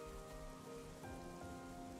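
Steady rain in Xenoblade Chronicles 3, a soft continuous patter over a game's sustained musical tones, even and unbroken throughout.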